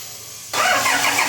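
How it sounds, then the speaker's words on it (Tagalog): A Toyota Innova engine, recently overhauled after overheating and blowing white smoke, cranks and catches, then settles into a loud, steady run right up close with no talking. "Ipa-start ko na nga itong makina."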